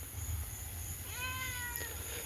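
A cat meows once on a rainy night outdoors, a clear rising-falling call over steady rain and low background rumble, with no talking.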